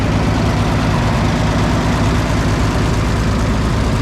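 Waukesha gas engine of an Oliver Styled 99 four-speed tractor running steadily, a loud, close, continuous low rumble with a regular firing pulse and no talk.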